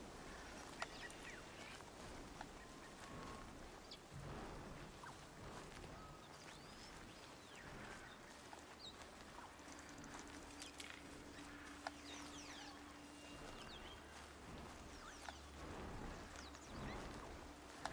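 Duck-like quacking and honking bird calls fill the ambience of the Horizon Zero Dawn video game, a faint, steady chorus of repeated calls over soft environmental background.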